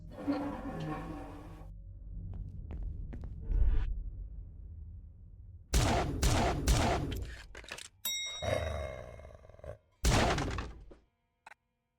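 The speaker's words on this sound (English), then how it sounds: "now I'm going to fire at a distance" Several sharp shots from a firearm in a video game, fired at distant targets, crack out in separate bursts of two or three, loud and close, after a stretch of murmuring voices and low rumbling.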